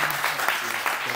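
Applause from an audience at a Korean nuclear energy event, a brief steady burst of many hands clapping as a student speaker is welcomed, with faint voices underneath.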